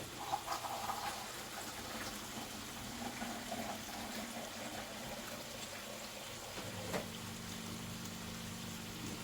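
A pot of tamarind gravy with eggplant simmers and bubbles on the stove, a steady soft watery boiling that goes on throughout, with a low hum entering near the end.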